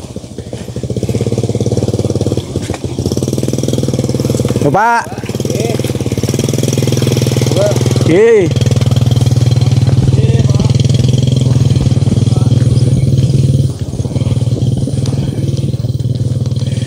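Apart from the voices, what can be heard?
motorcycle engine running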